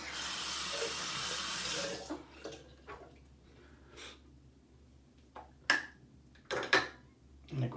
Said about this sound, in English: I'm gonna go ahead and actually rinse this with some fresh water as opposed to using my bowl.